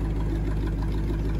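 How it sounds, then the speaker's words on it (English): A Jeep CJ5 engine fitted with a Quadrajet carburetor idles steadily, a low, even rumble with no revving, heard up close and alone. "Dude, she's just idling."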